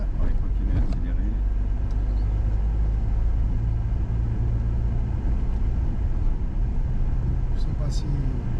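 A Dacia Duster 4x4 accelerates off-road in Morocco, its engine a loud, steady low rumble throughout with voices talking briefly over it near the start and end.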